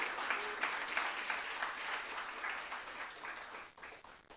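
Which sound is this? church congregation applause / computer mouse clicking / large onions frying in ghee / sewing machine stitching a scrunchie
church congregation applause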